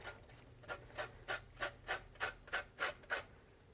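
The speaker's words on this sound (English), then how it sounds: "So I'm just going to grate in just a wee bit for some" Citrus zest grated over a poached paleo salmon dish, about ten rhythmic rasping strokes in a steady back-and-forth pattern, close and fairly quiet with no talking.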